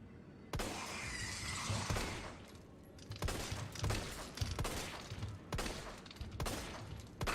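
Repeated gunfire aimed at Lickers in the Resident Evil 3 Remake PC game, a burst of loud, sharp shots spaced irregularly across the span, some in quick clusters, with no talking.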